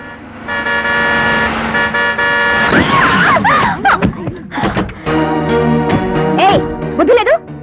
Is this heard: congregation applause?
no